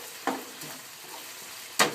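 Broccoli sizzles steadily in a frying pan, with two sharp scraping bursts as it is stirred around, close and without talk.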